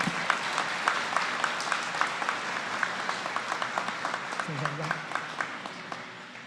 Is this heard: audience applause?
yes